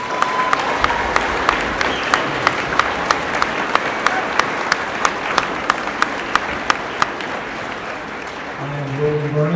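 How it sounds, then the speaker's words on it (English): Audience applause for middle school performers at a school Veterans Day program, a steady, sustained clapping crowd with sharp individual claps standing out, fading slightly near the end as a voice begins. "join me in a round of applause for all of our middle school performers"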